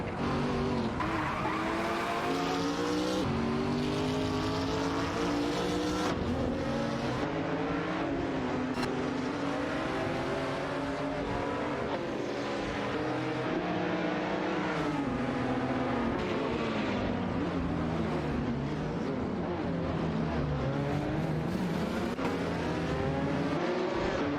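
Race car engines in an AI racing video game, a continuous high revving drone with shifting pitch, sliding tones of acceleration and tire squeal, loud and unbroken throughout.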